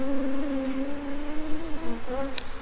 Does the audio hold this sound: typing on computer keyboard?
no